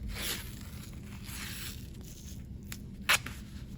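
Athletic tape being pulled off the roll and smoothed over an ankle during taping: a soft, continuous close-up rustle and scrape ending in one short, sharp tearing rip.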